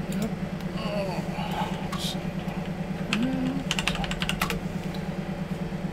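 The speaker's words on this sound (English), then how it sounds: "Now I am using an international keyboard, Swedish layout" Keys clatter in quick, uneven bursts on a Commodore Amiga keyboard with a Swedish layout, close up, over a steady low machine hum, with faint voice in the background.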